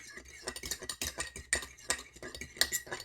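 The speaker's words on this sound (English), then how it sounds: "Stir that up a little bit and get it a little bit frothy" A utensil stirs and whisks a mixture in a bowl until frothy while making a breakfast sandwich, with quick rhythmic clinking and scraping taps close by.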